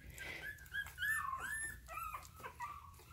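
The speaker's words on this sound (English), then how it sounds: "That's little Sadie whimpering" A three-week-old puppy whimpering up close, a run of high thin whines and soft yips at feeding time, with no talking.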